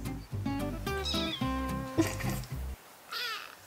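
A tiny two-week-old rescue kitten meows repeatedly in short, high, insistent cries, close and fairly loud, with a brief pause before a final wavering call.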